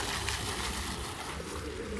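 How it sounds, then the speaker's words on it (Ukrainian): Pigeons coo softly beside running water in Khmelnytskyi, Ukraine, against a steady rushing wash of water, the calls low and continuous throughout. "голуби літають"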